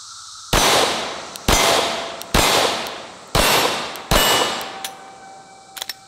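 A Glock 17 pistol fires five rounds of brass ammunition, five loud sharp shots spaced roughly evenly, each with a ringing decay, then faint metallic clinks at the end.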